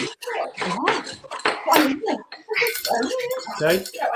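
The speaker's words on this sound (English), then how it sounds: "you need to give it a little bit of a stir" Rum cocktail being stirred in a glass with clinks and clatter of ice and spoon, close, heard under continuous talking.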